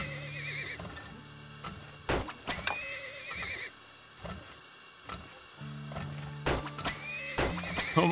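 Horses in the Turmoil video game neigh and whinny in several sharp bursts, with clip-clop hooves and soft ticking game effects underneath, fairly quiet and with no voices.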